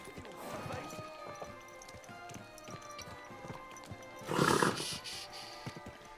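Horse in the game Kingdom Come: Deliverance 2 gallops with rapid hoof clatter and snorts, a louder burst of neighing and crashing near the end, with game ambience and a voice in the background.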